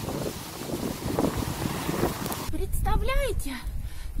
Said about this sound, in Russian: И ветер очень сильный.